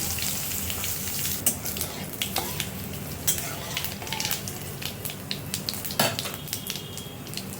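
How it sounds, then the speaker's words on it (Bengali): Dried red chilli and cumin seeds tempering in hot oil in a kadai give a steady, close sizzle with sharp crackles and a few stirring clinks from the utensil, and no talking. "তেল গরম হয়ে গেছে, দিয়ে দিলাম শুকনো লঙ্কা ফোড়ন আর সামান্য একটু জিরে ফোড়ন"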